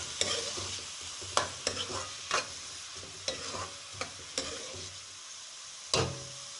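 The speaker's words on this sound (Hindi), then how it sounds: "प्याज़ों को हमने करना है लाइट ब्राउन, ज़्यादा डार्क नहीं करना, प्याज़ों को हल्का सा ब्राउन करना है।" Finely chopped onions fry in oil while being stirred, soft sizzling under a steady series of sharp scraping strokes from a spoon against the pan, about ten in a loose rhythm, close and fairly quiet.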